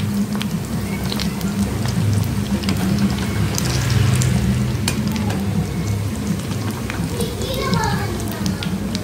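Vada made from rice and roasted gram fry in a pan and get flipped, giving a steady sizzle with occasional scrapes under continuous speech.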